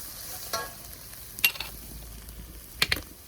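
Whole cloves and allspice are dropped into braising onions in a pot over coals, a soft steady sizzle broken by a few light clinks of a spoon against the pot.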